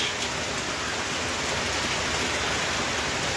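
Steady rain falling, a dense even hiss of drops with no other sounds, constant in level throughout.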